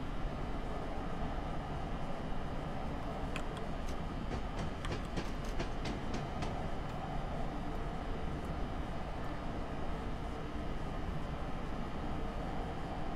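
A train rolls along in Train Simulator 2017, a steady, dense rumble of wheels and motor with a quick run of clicking rail-joint sounds midway, held at an even, moderate level with no talk.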